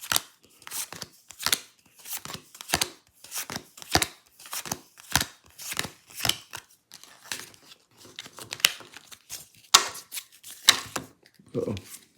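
A deck of board game cards for a solo wargame is shuffled by hand, giving a run of quick, crisp riffling and tapping bursts in a steady rhythm, close and clear, with a faint voice briefly near the end.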